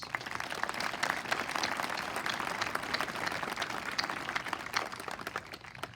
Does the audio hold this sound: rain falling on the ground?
no